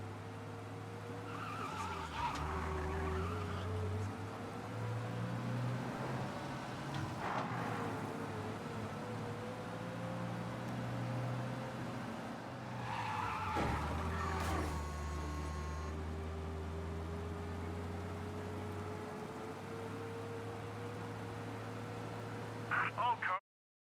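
A car in the Mafia video game races flat out to escape a police chase, its engine droning steadily and loudly throughout with brief skids and tire squeals mixed into the sustained roar.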